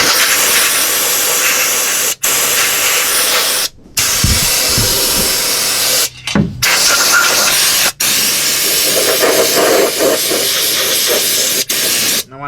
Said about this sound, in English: So I'll just take the wand and I'll stick it inside the frame here and give her a good coating.